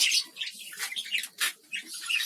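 Budgerigars chirping in a breeding colony, a quick series of high twittering calls in irregular bursts, close and moderately loud with no voices.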